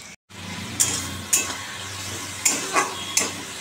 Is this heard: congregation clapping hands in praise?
no